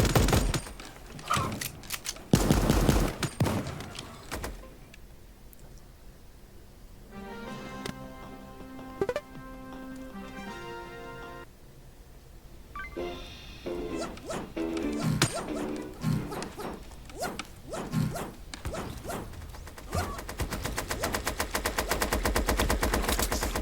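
A Thompson gun fires in Super Animal Royale, with bursts of rapid automatic shots and sharp impact cracks scattered through the clip, loud and close, mixed with game mechanism sounds and a musical passage in the middle.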